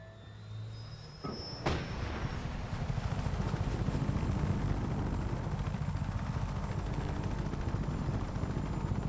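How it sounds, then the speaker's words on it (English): A helicopter in the Just Cause 3 video game starts with a sharp clank, then its engine roar builds into a steady, loud, chopping drone that continues without talk. "And time to get into my badass helicopter"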